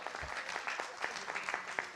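Audience applause at a comedy show, a dense, steady patter of many hands clapping close by with scattered sharper claps, running the whole time with no voices.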